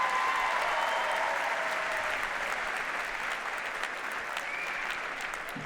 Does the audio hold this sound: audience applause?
yes